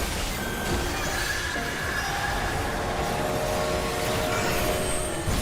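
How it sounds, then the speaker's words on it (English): A large train in Final Fantasy XIV rumbles along steadily, a dense continuous rolling clatter with faint tonal whines and squeals over it, loud and unbroken with no talking. "I'll be looking at the small train and listening to the big train"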